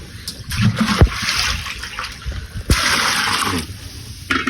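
Loud water splashing and sloshing as food is rinsed under a generous flow of water, with brief louder splashes standing out from a steady wash of running water.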